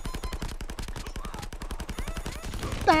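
Rapid automatic turret fire in a video game, a long run of sharp, evenly spaced shots rattling close and loud, ending in a brief higher electronic whine.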